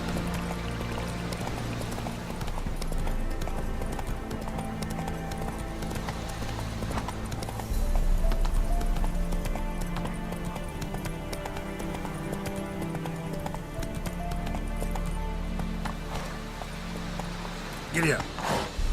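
Rhythmic clip-clop of a horse's hooves galloping steadily in The Witcher 3, with voices talking over the hoofbeats and a sharper rattle near the end.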